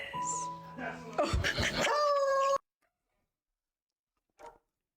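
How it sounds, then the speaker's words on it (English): Dogs yipping, whimpering and howling indoors in short bursts for a couple of seconds, ending abruptly, followed by silence and one brief faint sound. "Do you guys hear my dogs barking in the background?"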